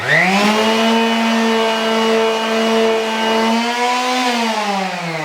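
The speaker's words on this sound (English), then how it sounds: "And get sanding again." A power sander whines loudly and steadily on a wooden picture frame, its motor pitch holding nearly constant with a slight rise and dip, running alone without voices.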